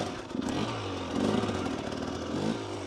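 Motorcycle ridden at slow speed through tight full-lock turns, its engine holding a steady low drone with small throttle swells and no pauses.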